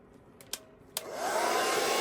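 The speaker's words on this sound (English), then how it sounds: "we're just going to take our heat gun or blow dryer" A couple of sharp clicks, then a heat gun or blow dryer whirs on and holds a steady loud rushing hum while warming a paint and resin pour on a lazy Susan.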